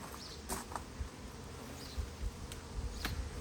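Honey bees buzz around a hive that recently swarmed, giving a steady low drone with occasional louder passes of single bees near the listener.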